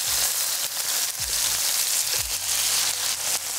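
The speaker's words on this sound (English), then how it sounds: "After frying for about 6 to 7 minutes, we'll flip our pork chops." Pork chops fry in a hot pan with a steady bright sizzle, broken by a few low thumps and shifts as the meat and pan move.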